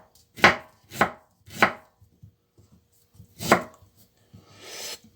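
A knife slices ginger thinly for ginger tea, making four crisp chopping strokes at a steady pace on a board, followed by a softer scraping sound, with no talking.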